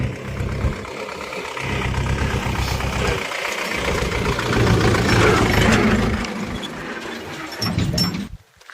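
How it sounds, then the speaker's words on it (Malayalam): A tractor engine rumbles on a forest road near Thenkasi, a steady low drone that swells louder midway before easing off, with no talking. "ഒരു ട്രാക്ടർ വരുന്നുണ്ട്"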